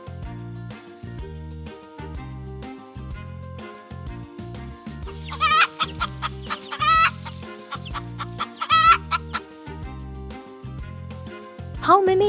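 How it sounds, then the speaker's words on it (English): Hens cluck in short, sharp bursts over an upbeat children's song on a farm, with several clucking calls spread across the track and a voice singing throughout. "How many hens are on the grass?"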